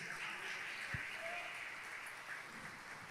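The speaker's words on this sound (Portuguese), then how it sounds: "Se você crê nisso, aplauda o nome de Jesus." Steady applause from a crowd, a continuous wash of clapping at moderate distance with no pauses.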